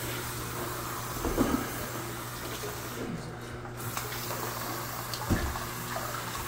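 Water runs from a tap as a steady, even hiss throughout, fairly close, with a few faint knocks and no talking.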